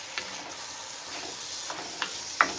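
Tomato paste fries in grease in a pot of bear meat chili, a faint, soft sizzle with a few light stirring taps.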